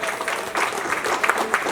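Sustained applause from an audience at an Indian political campaign event in Mumbai, dense broadband clapping that swells partway through and keeps going without pause.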